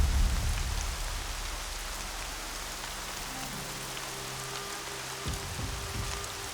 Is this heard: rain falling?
yes